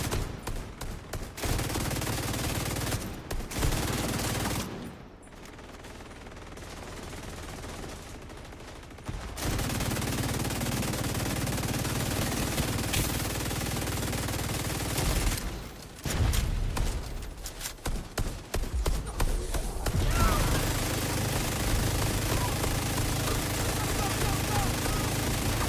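An automatic weapon with a very high rate of fire and a 180-round load unleashes long, dense bursts in The Division 2 video game. Loud sustained fire is broken by a few short pauses, with a voice talking along.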